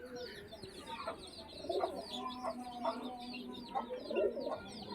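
Hens cluck softly near the camera while chicks peep in high, rapid chirps, with pigeons also present in a backyard poultry and pigeon enclosure. The clucks come in short, irregular bursts over a steady chatter of chick calls.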